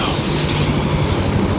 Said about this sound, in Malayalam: ഹെലികോപ്റ്റർ പോയെന്ന് തോന്നുന്നു കേട്ടോ.